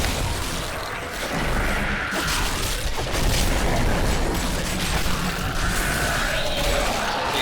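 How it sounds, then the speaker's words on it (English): Necromancer corpse explosions in Diablo III on the Switch: dense, loud bursts of booming crashes and smashing impacts pile up over a constant din of battle noise, with no quiet gaps. "Good old corpse explosion."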